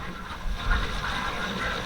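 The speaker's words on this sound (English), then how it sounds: "And here comes our train." Small farm amusement train arriving, a moderate rumbling roll with a soft hiss and light rail clatter, steady and fairly close.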